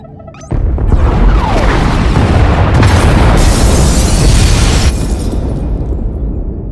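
Pod bays are blown apart in Star Wars: The Old Republic, a sudden loud explosion that swells into a long, dense roar of blasts and crashing debris lasting several seconds.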